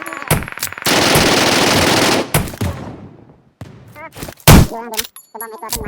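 Gunfire in PUBG Mobile Metro Royale, a long sustained automatic burst followed by scattered single shots and impacts, loud and close, with brief game sounds between.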